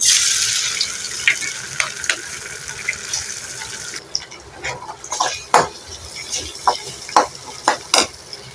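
Two cracked eggs poured into a hot pan with onion, green chilli, curry leaves and mustard seeds, frying for a radish-and-egg stir-fry: a steady close sizzle that thins out, then sharp crackles and spatters popping at irregular intervals.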